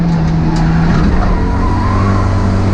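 A Hyundai Coupe race car runs on a circuit with a loud, steady in-car engine drone that wavers slightly as the throttle changes, constant throughout with no talking.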